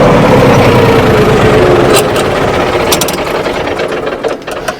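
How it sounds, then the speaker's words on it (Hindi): A John Deere tractor engine with no load idles loudly close by, then is switched off, its steady low rumble dying away into faint clicks and quiet. "ट्रैक्टर को मैं कर लेता हूँ बंद।"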